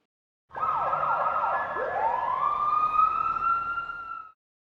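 A fire engine siren wails in a children's safety lesson, rising and falling sweeps settling into a long steady high tone, loud and close with no voices.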